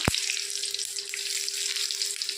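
A bay leaf dropped into hot oil left from frying paneer gives a faint, continuous crackling sizzle after a brief initial thump, with no talk.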